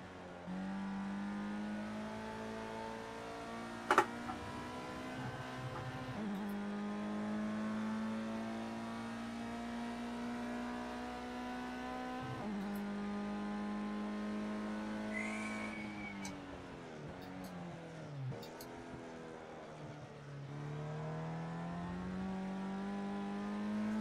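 Race car in the Project Cars 2 video game, its engine droning steadily at high revs with gear changes as the pitch drops and climbs, tyres squealing and skidding briefly on cold rubber, continuous and close with no talk.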